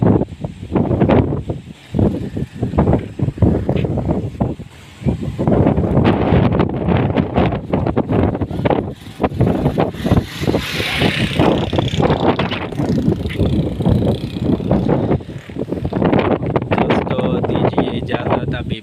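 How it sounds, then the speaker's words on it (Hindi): Strong wind blows across a mountain setting just after rain, a steady broadband rush buffeting the microphone with gusts rising and falling throughout, while someone talks over it. "अभी बारिश हो चुका है, बहुत ज़्यादा हवा चल रहा है"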